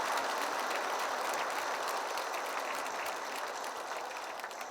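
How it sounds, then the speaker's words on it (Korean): A large congregation at a Catholic retreat applauding their priests, steady dense clapping that holds at an even level and only eases slightly at the end. "박수 한번 쳐주세요"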